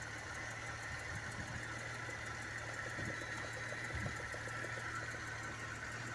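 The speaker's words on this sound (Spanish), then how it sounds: "En este momento he desconectado el vacío del sensor y el motor está funcionando rico" A car engine idles steadily and richly with the vacuum line pulled off its MAP sensor, a continuous low hum with faint periodic ticking throughout, no talking.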